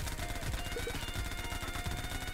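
Rapid gunfire in the top-down shooter Ruindog Prologue during a boss fight, a fast, steady string of shots under game music and effects, fairly faint overall.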